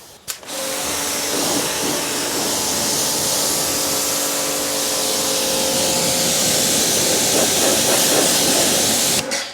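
A pressure washer rinses a wheel on a 2007 Subaru WRX, a steady loud hiss of spray that starts abruptly and runs nearly unbroken throughout, with no talking.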